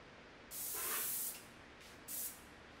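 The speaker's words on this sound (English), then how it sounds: "That's one thing I really like about using the airless is that I don't have a turbine or an air compressor going while I'm spraying." Airless paint sprayer laying finish onto a mid-century Kent Coffey dresser, one long loud hissing spray burst followed by two shorter bursts, close up in a quiet room with no compressor noise.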